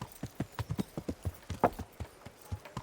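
Rapid, agitated hoofbeats of a horse in Kingdom Come: Deliverance, a quick uneven clatter with a brief snort or whinny partway through, fairly close.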